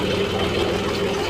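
A Mahindra 275 tractor engine idles nearby with a steady low rumble while a JCB loads it, with no voices heard.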